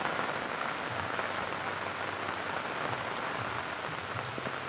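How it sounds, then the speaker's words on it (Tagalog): Heavy rain pours down steadily at a fish pond, a dense and loud continuous hiss of drops striking the water and its surroundings, with no voices over it. "Ang lakas ng ulan."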